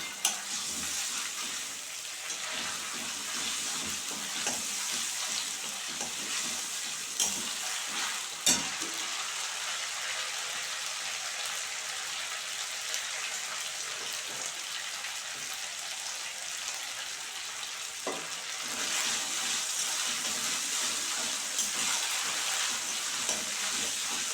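Spice paste with ground ginger fries in oil for tel koi fish, a steady sizzling hiss with occasional stirring scrapes and small clicks throughout, and no voices.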